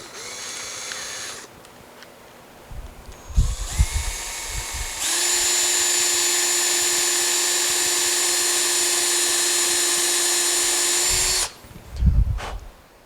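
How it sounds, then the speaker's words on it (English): A power drill bores a hole into a wooden dining table bench, whining loud and steady for several seconds after short starts and handling knocks, close up with no talk. "I'm going to do my best to drill out, I don't know, maybe a 1/2 inch or so"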